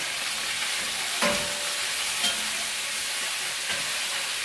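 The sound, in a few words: sausages being stirred and frying in a pan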